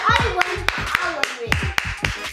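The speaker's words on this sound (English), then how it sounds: "give you both a round of applause" A few people clap in a home setting, giving sharp separate claps at a steady, fairly slow rhythm, with voices talking underneath.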